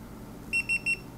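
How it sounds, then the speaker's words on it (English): A Gitup Git2 Pro action camera gives three short, evenly spaced electronic beeps, clear and fairly close over a quiet background. "You hear the other camera beep"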